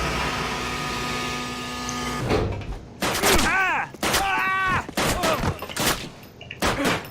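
Bursts of gunfire from the Call of Duty video game, following a steady mechanical hum; several sharp, loud shots and short volleys arrive irregularly in the second half, closely spaced and prominent.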